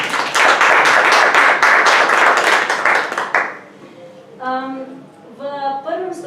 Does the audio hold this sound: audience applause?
yes